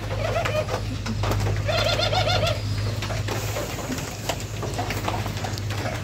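Pigeons and doves kept together coo in soft, repeated rolling calls at close range, with two bursts of cooing over a steady low hum and background noise.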